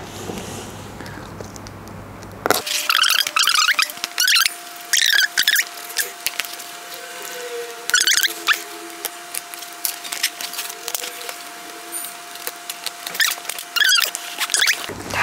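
A small knife scratches and slices through the cardboard and tape of a shipped box holding a YouTube Silver Play Button, in short, close, crisp bursts with brief pauses between strokes.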